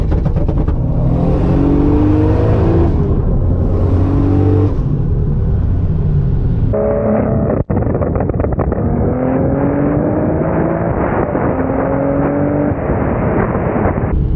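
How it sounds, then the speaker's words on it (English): A Toyota MK4 Supra launches and accelerates hard, its engine climbing loudly through the revs with a brief break at a gear change before it pulls again, all heard close from inside the car with heavy wind rush. "let's go ahead and wrap up this drive with one more pull"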